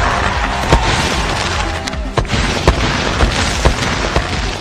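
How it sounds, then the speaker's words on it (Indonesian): Cartoon fireworks exploding at an amusement park, a steady loud stream of crackling with sharp pops and booms recurring every half second or so, no voices. "Kembang api sangat indah."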